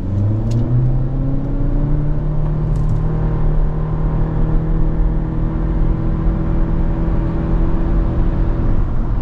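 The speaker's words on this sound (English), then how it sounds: "this is a run-in engine. So let's give it some." A 2024 Honda Civic EX-L engine revving and accelerating toward its 6,500 RPM redline on the road, a loud, continuous rising drone with climbing engine tones and steady road rumble throughout.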